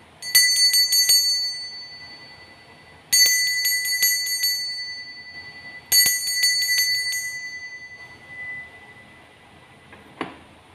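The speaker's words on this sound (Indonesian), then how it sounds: "kita akan mulai saja dengan ditandai lonceng berbunyi" A bright bell rings in three separate bursts, each a quick cluster of strikes followed by a lingering, fading ring, with a short soft thump near the end.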